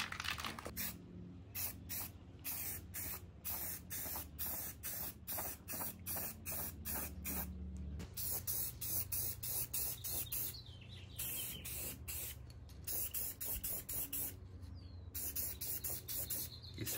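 Black spray paint from an aerosol can coats parts of an electric go-kart, with a long run of short hissing spray bursts at a quick steady rhythm, close and loud, with no talking.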